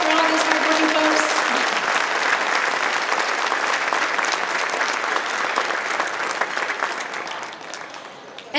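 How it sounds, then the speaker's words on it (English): A gala audience at the Chicago Chinatown Chamber of Commerce 30th anniversary breaks into a big, dense round of applause, loud and sustained for several seconds before gradually tapering off. "Can we have just a big round of applause, full on, for all these hardworking folks?"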